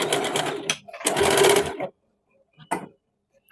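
A sewing machine runs in two bursts of rapid whirring stitches along a blouse sleeve, the second longer, then falls silent apart from a short final whir, loud and close.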